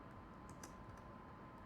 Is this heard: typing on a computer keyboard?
yes